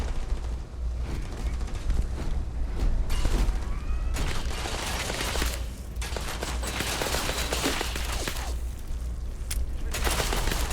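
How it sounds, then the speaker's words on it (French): Gunfire in the video game Starfield: dense, continuous bursts of shots and booming impacts fill the scene at a steady high loudness. "il y a des coups de feu"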